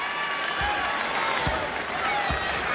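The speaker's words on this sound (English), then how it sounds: "you can hear the applause that he gets for diving on the floor for that" A basketball crowd at an Indiana vs Michigan college game applauds a player diving on the floor for a loose ball: sustained clapping and crowd noise, punctuated by a few dull ball-bounce thumps.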